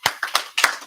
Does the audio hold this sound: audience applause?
yes